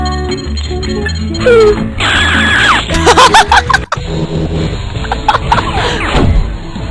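A dubbing voice screams loudly and realistically for a retro Korean flash game about saving a friend and the Earth. The shrill cry rises mid-clip among clattering game effects and thumps.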